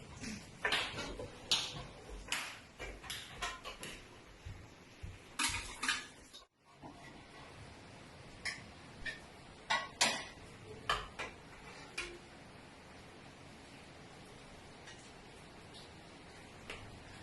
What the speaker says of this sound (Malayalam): എല്ലാ പാത്രങ്ങളൊക്കെ ഒന്ന് കഴുകിയേ